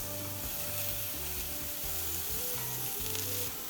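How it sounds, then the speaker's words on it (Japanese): Shiitake and other mushrooms browning in a hot pan for a pepperoncino, with a steady close sizzle and frying hiss throughout, punctuated by faint stirring scrapes and a low rhythmic hum underneath. "この次きのこに美味しそうな焼き色をつけるというフェーズです"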